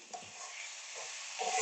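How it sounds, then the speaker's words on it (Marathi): Ivy gourd sabzi with flour being stirred in a pan, likely an iron or brass kadhai: a soft scraping stir with a light sizzle, close and fairly quiet, with no talking. "हे असं पीठ घालते मी. हलवायचं असं एका बाजूने."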